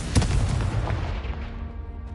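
A Confringo fire spell blasts in the Hogwarts Legacy video game, a sharp burst near the start followed by a rumbling, booming explosion that decays over about two seconds with no talk.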